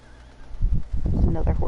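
A horse mount in Final Fantasy XIV neighs in a low, rough burst that begins partway through and swells to a loud, close whinny over a quiet game backdrop.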